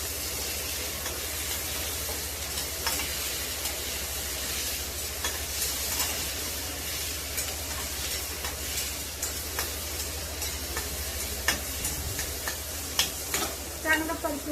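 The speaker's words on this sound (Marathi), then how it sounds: "चांगलं परतून घ्यायचं." Okra bhaji with tomatoes and curry leaves sizzles and fries steadily in a pan, with occasional stirring scrapes and clinks rising above the constant hiss through the whole stretch.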